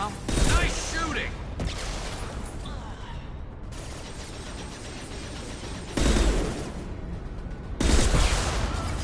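Video game gunfire: dense bursts of rapid shooting and booms that swell in loud waves, with voices speaking over the battle noise.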